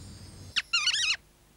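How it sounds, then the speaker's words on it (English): Barn owl call, a short squeaky chirp followed by a wavering, harsh, high shriek lasting about half a second, heard alone and close against quiet background. "My favourite bird is a barn owl because it has nice wings"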